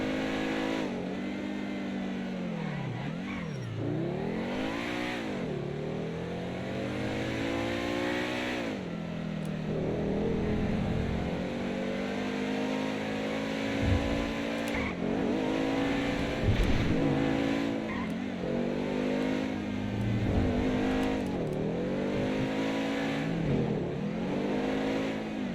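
A BMW's engine in a roleplay driving game revs and accelerates steadily, its pitch climbing, dipping and climbing again through gear changes over about 25 seconds, a continuous near engine drone with no talking.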